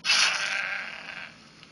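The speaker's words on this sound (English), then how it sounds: "So let's go ahead and use the bow to kill the sheep." A sheep in the video game Ravensword II: Shadowlands gives one drawn-out, wavering bleat that fades over about a second and a half, heard clearly without talk.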